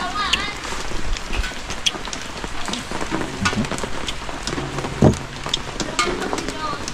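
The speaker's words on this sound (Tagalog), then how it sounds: "Kaya baka biglang lumakas ang ulan." Steady rain patters on a surface outdoors in the Philippines, a constant dense hiss throughout with a brief louder knock near the end.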